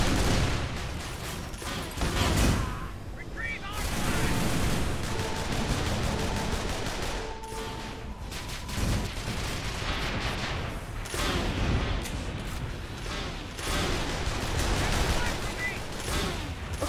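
Rapid gunfire from a shooter video game crackles in dense bursts throughout, loud and continuous with brief lulls, sounding like automatic weapons mixed with heavier booms.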